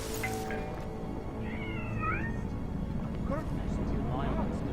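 A cat in the video game Deus Ex: Mankind Divided lets out several drawn-out, wavering meows over a low game ambience, with someone talking briefly at the start.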